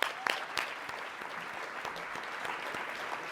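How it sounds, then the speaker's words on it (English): Applause at an awards celebration and fundraiser gala for an honoree, fairly faint and distant, with a few sharper claps near the start before settling into an even patter. "Everybody, big round of applause."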